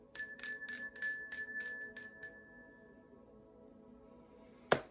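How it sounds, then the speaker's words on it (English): A bell rings about eight times in a quick, even rhythm, each strike bright and close, then fades out before a sharp knock at the end. "I'm going to begin by ringing the bell"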